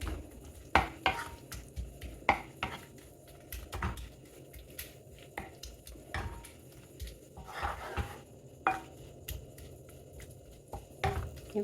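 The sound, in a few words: spatula mashing soft tomatoes in a pan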